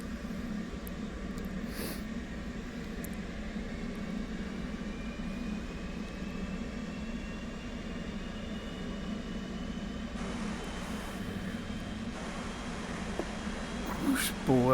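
The right engine of a jet aircraft on a carrier in a flight video game spools up, a faint rising turbine whine over a steady low hum, with someone talking quietly.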